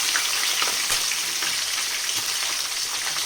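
Curry leaves, garlic and green chillies frying in hot oil in a pan, a steady dense sizzle throughout with faint stirring, close and loud, no voices.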